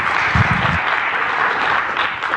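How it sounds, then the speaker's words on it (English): A room full of guests at a group event gives a loud, close round of applause, dense and continuous, with a brief low thump near the start. "Big round of applause for that"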